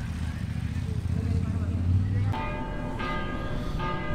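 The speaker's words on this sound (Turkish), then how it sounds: "Arkadan çan sesleri." Church bells ring out in Granada, clear resonant strikes ringing from a moderate distance over street ambience with passing traffic and a low vehicle rumble.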